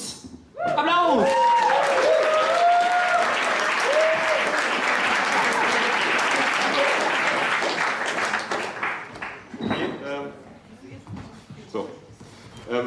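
A live audience breaks into loud, sustained applause for the next contestant at a poetry slam, with whoops and cheers rising over the clapping before it thins out near the end.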